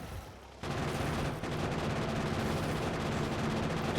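Grenades and shotgun fire in Factorio combat: after a brief quiet start, a dense, continuous barrage of gunfire and blasts keeps going loud and steady for several seconds.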